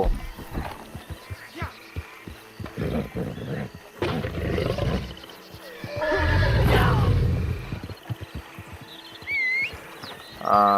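A horse in the video game Red Dead Online gives loud, strained neighs and whinnies amid game sounds, with a long roaring outburst near the middle and shorter calls and clatter around it.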